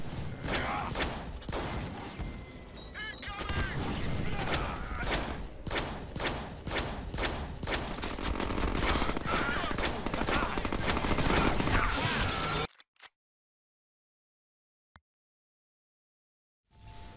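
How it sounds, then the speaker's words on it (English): Dense, continuous crackling bursts of fireworks in the Deadpool video game with heavy booming, loud and chaotic for about twelve seconds, then abrupt near-silence. "Woohoo! Fireworks!"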